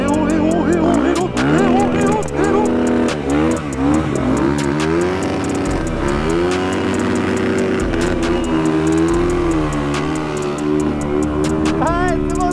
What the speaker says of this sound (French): Oh non, elle me surprend la moto.